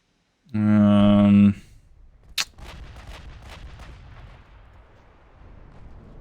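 A battleship's main guns fire in a naval warfare game: one loud sustained blast, then a sharp crack followed by a rumbling, fading echo and faint repeated impacts.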